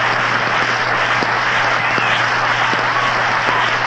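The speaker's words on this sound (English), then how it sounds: "And the crowd is still in an uproar over that play" A ballpark crowd at a World Series game between the Giants and the Yankees roars and applauds after a double play, a dense, continuous wall of cheering and clapping that holds steady throughout.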